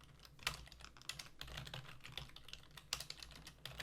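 Rapid typing on a computer keyboard while coding a tower defense game's path editor, with dense clattering keystrokes and a few louder key strikes, close and steady with no talking.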